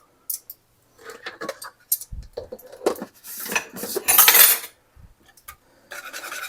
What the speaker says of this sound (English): I'm just going to whisk that right in.